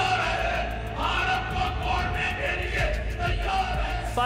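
A large crowd at a political rally in Islamabad yelling and cheering together, a loud continuous roar of massed voices with rhythmic bursts of shouting throughout.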